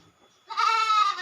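A single goat at a village goat pen lets out one loud, close, nasal bleat lasting about three quarters of a second, with no voices around it.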